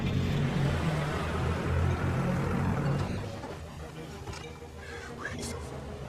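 A bus carrying passengers pulls away in a film scene, its engine rumble loud at first and then fading, while a voice talks over it.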